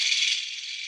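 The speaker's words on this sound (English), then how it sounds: "it was hard to capture a machine tufting gun going" A hand tufting machine gun runs continuously on a rug, a steady high-pitched mechanical buzzing whir held at an even level for the full second, close and loud, with no talking.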